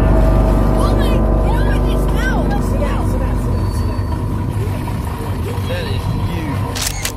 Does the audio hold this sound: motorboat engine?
yes